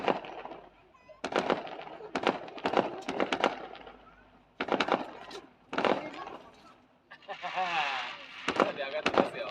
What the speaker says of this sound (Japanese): 花火上がってますよ。